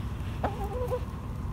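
A backyard hen in a shady garden lets out a single short, warbling cluck close by, over a low steady background hum.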